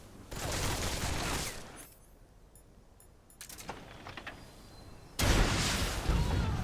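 Bursts of rapid gunfire in a Metal Gear video game, two long loud volleys split by a quieter stretch with scattered clicks and shots, then a sudden heavy burst near the end.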